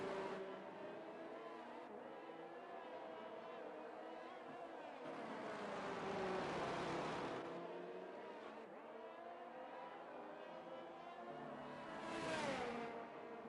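Racing cars in a sim racing video game roar continuously, their engine whine rising and falling as they accelerate and pass, loud and steady with no voices.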